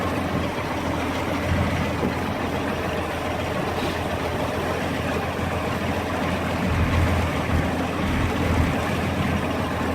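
Boat engine running on low-octane fuel and sounding bogged down, a loud continuous droning rumble close by with a steady low throb throughout.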